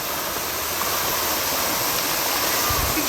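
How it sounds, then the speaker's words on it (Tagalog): Water rushes and pours steadily, a continuous broad roar like a stream or small waterfall at a Baguio outing, close and fairly loud throughout with no clear talk over it. "Josh, madumi yung tubig."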